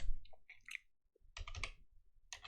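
A handful of quick keystrokes on a computer keyboard, close and quiet, scattered clicks with short pauses between them in an otherwise silent room.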